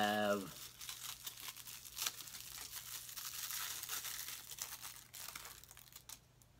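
Aluminum foil from a small tin survival kit is crinkled and handled close up, giving a continuous dry rustling crackle with a few sharper crunches over several seconds.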